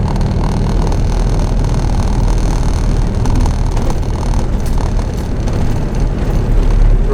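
A Ford Escort mk4 van is on the move, giving a steady, loud drone of engine and road noise that holds an even level from start to finish with no talking.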